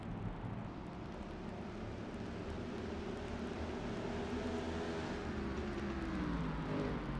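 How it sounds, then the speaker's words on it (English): Race car engine in a racing video game at Martinsville, droning steadily with a short throttle blip and rising pitch near the end, several cars' engines layered at moderate loudness. "you hear that little blip of the throttle there going into 3"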